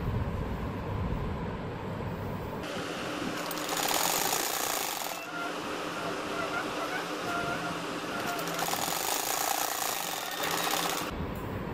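A sewing machine stitches a double bed sheet in steady whirring runs that pause and resume, loud and close throughout.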